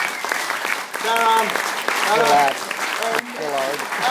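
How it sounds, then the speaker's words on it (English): Applause from a jazz club audience after a concert by a band, steady clapping throughout with someone speaking over it in bursts. "So once more, a big round of applause"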